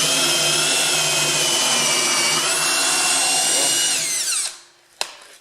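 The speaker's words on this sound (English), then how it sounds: "So now we got to drill our holes." A power drill boring holes in wood for screws while repurposing a home-built wheelbarrow: a loud, steady whine runs for over four seconds, then spins down, followed by a single sharp knock.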